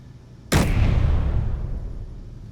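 A turret in the video game Space Engineers fires a single heavy, booming shot that hits sharply and then rolls off into a long rumbling decay. There is no talk.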